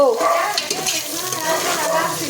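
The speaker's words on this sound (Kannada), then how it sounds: "ಸ್ವಲ್ಪ ಹಾಕೊಂಡು ಉಳ್ಳಾಗಡ್ಡಿ ಫ್ರೈ ಆಗ್ಲತ್ತರಿ" Onions fry in a pan for chicken biryani, with a continuous close sizzle and stirring scrapes throughout, and a faint voice beneath.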